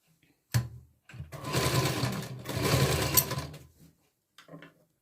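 Sewing machine stitching a katori blouse, two close bursts of rapid mechanical whirring, each about a second long, separated by a short pause, with faint handling clicks before and after.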